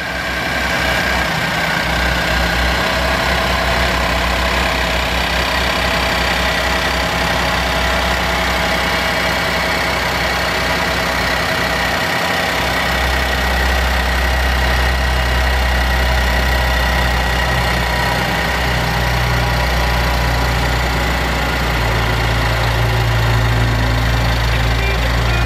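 A 2010 Chevy Traverse with a 3.6 liter engine and 83,492 miles idles steadily and close up, a continuous low hum with a slight knock running unbroken throughout.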